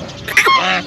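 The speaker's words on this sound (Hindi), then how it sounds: "ये बत्तख दिखाते हैं।" Ducks in a Rajasthani desert village give a brief, close, loud nasal quack or honk, standing out over quiet background.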